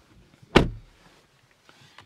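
A single solid thump of a car door closing on a 2017 Mercedes-Benz E400 Wagon, close and brief, followed by quiet faint interior rustles.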